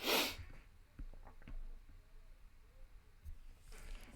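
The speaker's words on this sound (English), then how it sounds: "I'm about to sneeze, I apologize." A single sharp sneeze bursts out at the start, followed by quiet breathing, sniffs and small handling noises.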